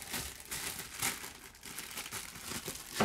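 Sealed plastic packaging around a condenser microphone is cut open, giving close crinkling and crackling with sharp tearing bursts that run steadily throughout.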